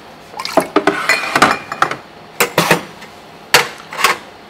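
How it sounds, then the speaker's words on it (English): Verjus is measured and poured while a rum and coconut cocktail is built, with close glass clinks and short splashy pours in quick bursts. "Then we add some verdure for a little bit of acidity"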